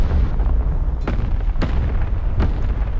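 Bombs burst in the War Thunder Mobile tank game, three heavy sharp impacts over a constant deep low rumble of battle, loud and close.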